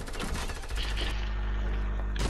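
Gunfire in the video game Fortnite, a dense rattle of shots up close that gives way to a low steady rumble and a final sharp burst.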